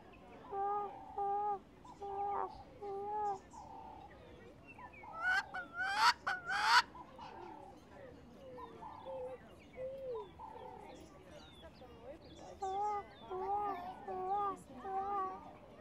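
Cape francolin spurfowl giving repeated harsh, cackling calls in a rhythmic series, a loud burst of answering calls in the middle, alternating with a human voice imitating the bird.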